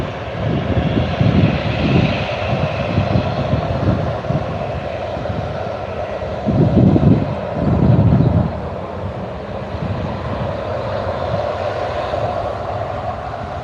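A Jet2 airliner at Newcastle Airport produces a steady, fairly loud roar of jet engine noise with wind buffeting the microphone; the rumble swells briefly twice before settling back to a constant drone.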